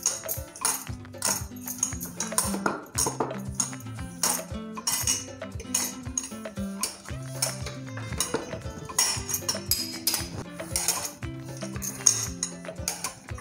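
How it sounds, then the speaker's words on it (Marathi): Ghee and powdered sugar are beaten together by hand in a bowl, giving a long run of uneven clinks and scrapes from a utensil against the dish, close by and with no voices. "त्याच्यामध्ये पिठी साखर टाकते आणि हे चांगलं फेटून घेते"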